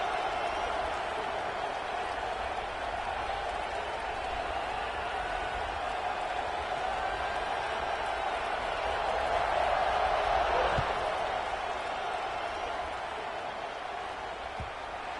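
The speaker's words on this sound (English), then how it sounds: "this crowd is buzzing after that last score." A stadium crowd in a college football video game buzzes with a steady roar and scattered clapping, swelling slightly partway through, while a commentator talks over it.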